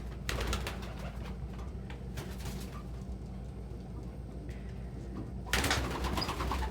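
Pigeons in a loft coo softly and steadily, a low murmuring chorus with occasional louder close calls and some rustling, no talking.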